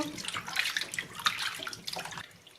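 Cherries being washed under running water produce a soft, continuous splash and trickle with small bursts as the fruit is moved by hand, fairly quiet and close.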